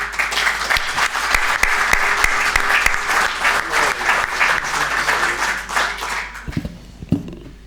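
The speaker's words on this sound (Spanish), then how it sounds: "Casi un aplauso para él, ¿eh?" An audience at a literary talk gives a steady, full round of applause that holds for several seconds, then thins out into a few scattered claps.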